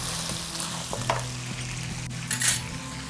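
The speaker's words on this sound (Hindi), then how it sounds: "ज़ीरा डाल के भी फ्राई कर रहे हैं" Cumin seeds fry in a pan for an Afghani karahi, giving a continuous close sizzle with a few sharp crackles and a brief clink of a utensil partway through, no voices.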